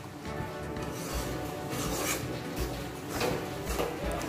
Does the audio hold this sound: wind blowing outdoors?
no